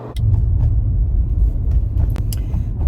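Inside a moving car on the road, a loud, steady low engine and road rumble fills the cabin, with a few faint clicks and rattles on top and no talk.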